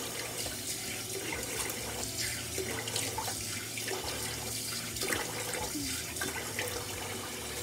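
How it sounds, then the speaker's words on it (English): Tap water runs steadily into a sink during face washing with cold water in a morning bathroom routine, a continuous close splashing flow with no talking. "And then I just go ahead and wash my face."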